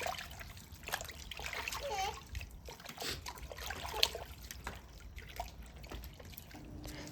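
Water splashes and drips intermittently as lamb tripe is rinsed and scrubbed by hand, quiet sloshing and trickling up close with faint voices in the background.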